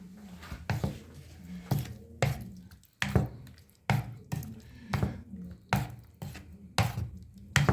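A spoon stirs a wet mixture of potato and egg for a Spanish tortilla in a bowl, giving repeated soft squelching scrapes and clinks about once a second, close up and with no speech.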